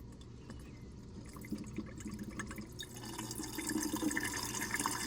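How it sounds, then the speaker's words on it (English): Water from a dishwasher drains into a garbage disposal, a close trickling and splashing flow that grows steadily louder and fuller toward the end, with no talking. "see the water draining out into the garbage disposal"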